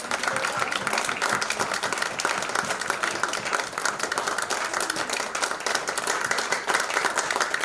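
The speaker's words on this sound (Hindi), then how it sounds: "तालियां बजती रहनी चाहिए।" Loud, continuous applause from a crowd at a network marketing meeting, a dense wall of clapping hands that holds steady from start to finish without pause.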